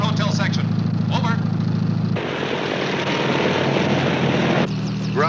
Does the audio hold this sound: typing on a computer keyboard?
no